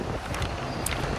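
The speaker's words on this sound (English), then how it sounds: "so it's windy" Gusty wind buffets a sailboat on the crossing from Tenerife to Gran Canaria, a short, steady burst of broadband rushing noise close to the microphone with no talking.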